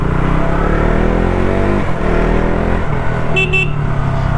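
A KTM Duke motorcycle engine runs with a loud, steady exhaust rumble throughout, its firing pulses dipping briefly twice, with a short higher tone near the end.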